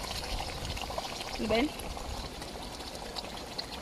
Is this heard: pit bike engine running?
no